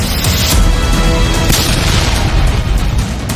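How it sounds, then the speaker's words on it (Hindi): A car bomb blast from a Hyundai i20 near the Red Fort metro station in Delhi comes as loud, dense booming and crackling, a sustained roar with sharp bursts at about half a second and a second and a half. "एक होंडई i20 धीरे से रुकता है और ब्लास्ट हो जाता है"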